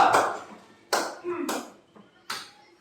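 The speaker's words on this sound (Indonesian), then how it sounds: "Tepuk tangan untuk kelompok 3." Short bursts of clapping for a student group presenting in class, a few separate rounds within a few seconds, fairly close and loud with a voice between them.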